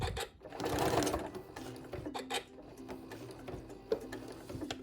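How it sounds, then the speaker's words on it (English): A sewing machine back-stitches a small quilted Advent wreath quilt, its motor whirring in short steady runs broken by brief pauses and small mechanical clicks as the needle locks the stitch and the fabric is turned. "So I do have my machine set to back stitch."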